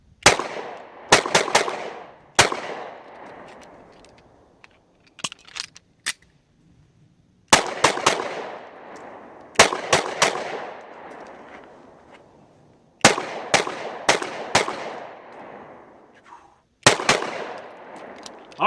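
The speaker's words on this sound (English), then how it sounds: "those were the very first rounds that were fired out of this gun" Shots from a Taurus PT111 G2 pistol crack sharply at an outdoor range, fired singly and in quick strings of two to four, each with a ringing echo fading into quiet pauses.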